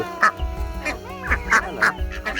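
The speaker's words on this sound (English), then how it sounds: "Duck." Several honking, nasal duck calls, slightly irregular, come from ducks near the koi and turtle ponds at a luxury resort in Ubud, Bali, with background noise and no clear speech.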